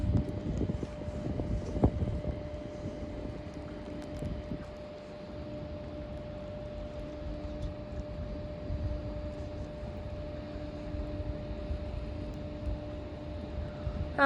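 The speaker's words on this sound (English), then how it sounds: "Arriving now is the 13:58 Scotrail service from Glasgow Central to Wemyss Bay." Scotrail train from Glasgow Central to Wemyss Bay, class 380 unit, arriving at a station platform: a steady low rumble with a sustained tonal whine, louder at first and then easing to a constant hum.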